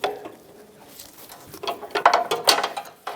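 Serpentine belt tensioner being released on a 2013-2018 Toyota RAV4 2.5L four-cylinder: a few close metallic clicks and ratcheting snaps, with a sharper clack near the end, no talk.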